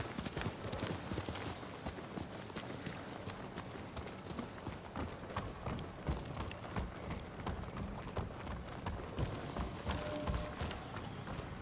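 Horse hooves clip-clop steadily in the video game Ghost of Tsushima, a continuous brisk rhythm of hoofbeats, loud and close, with a bit of talk underneath.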